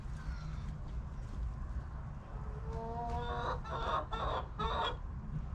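Backyard hens cluck and chatter nearby in a burst of short, repeated calls that grow busier toward the end, over a low background hum.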